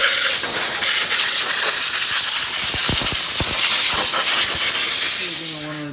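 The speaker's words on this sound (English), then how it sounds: "We're going to clean this up with a little bit of air and brake clean" Compressed air and brake cleaner are sprayed onto the engine of a 2002–2006 Honda CR-V during a valve cover gasket job. They make a close, continuous loud hiss with a few sharp clicks partway through, fading slightly at the end.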